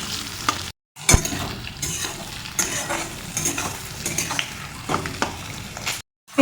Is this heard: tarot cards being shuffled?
no